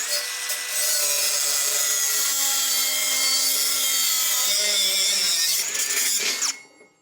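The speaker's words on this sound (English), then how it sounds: "we got our first cut made using our little 3-inch saw." A small 3-inch cutoff saw slices through metal strip stock during a garage lean-to build, giving a loud, steady high-pitched grinding whine that holds for about six seconds and then winds down and fades.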